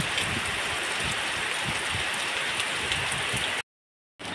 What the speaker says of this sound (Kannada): ಮಳೆ ನೋಡಿ ಜೋರು ಬರ್ತಾ ಉಂಟು